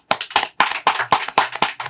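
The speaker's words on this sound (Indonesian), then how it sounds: "luar biasa tepuk tangan" Audience applause in short bursts, roughly seven quick loud surges of clapping in under two seconds, close and with no talking.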